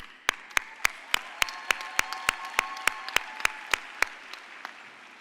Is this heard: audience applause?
yes